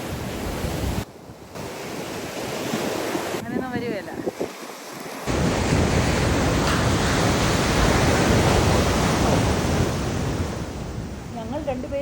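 Sea waves crashing and washing onto a beach, a loud, steady roar of surf mixed with wind buffeting the microphone, with a person speaking briefly early on.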